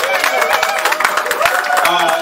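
Wedding guests clap together in a festive hall during a ceremony, a brisk run of handclaps with voices and musical tones over it.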